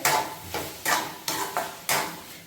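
A spoon stirs raw tomato chutney with garlic paste in a pan: five short, scraping strokes in a loose rhythm, each with a soft wet smack, close and fairly loud.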